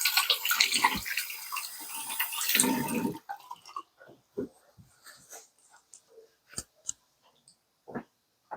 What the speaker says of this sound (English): let me rinse my hands off because I've got icky